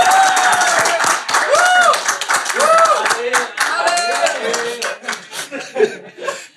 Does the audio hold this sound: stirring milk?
no